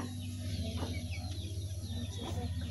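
A chicken clucks a few times at moderate distance over a steady background hum.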